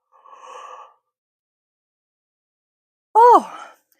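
A single audible yawn, a drawn-out breathy exhale rising then falling in pitch, close and alone after a short soft breath, with silence between.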